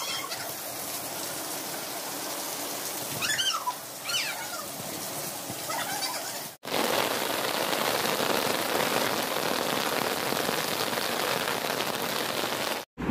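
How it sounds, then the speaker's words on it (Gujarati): Steady summer rain pours onto surfaces nearby, a dense, even hiss that runs throughout, briefly cut by a short gap, with a faint bird call early on. "જો વરસાદ આવવા માંડ્યો છે"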